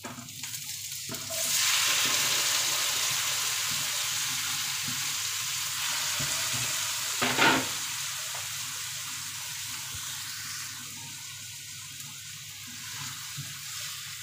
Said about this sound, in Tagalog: pabanghin natin itong kamatis natin dito hanggang sa lumasa